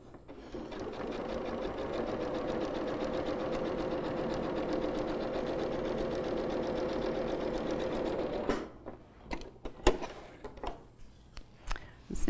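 A sewing machine stitches along a garment seam over pins, running in a fast, even, close-up whir for about eight seconds before it stops, followed by a few soft clicks and handling taps.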